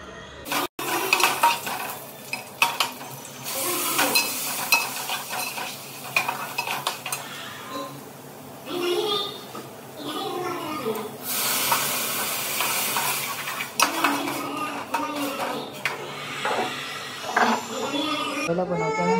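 Fish fries in oil in a home kitchen pan, giving a steady sizzle and hiss. A utensil scrapes and stirs in bursts, and someone talks over the cooking.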